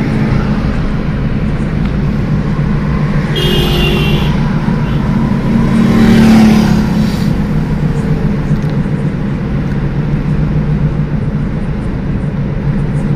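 A car cruising slowly on the Yamuna Expressway with a window open, producing a loud steady rumble of road and wind noise that swells briefly midway.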